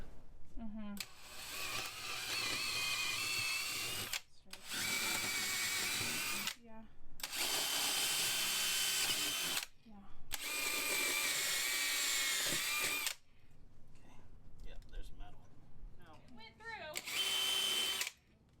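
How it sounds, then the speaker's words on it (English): A power drill whines loudly in several long bursts separated by short pauses, drilling through the floor of an RV, with brief voices and handling noise in the gaps. "we're going to go ahead and drill this out, see where it lands"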